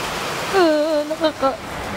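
Typhoon Kristine's wind and rain lash a house in Bicol during a power outage, a loud steady broadband roar running throughout, with a person speaking over it.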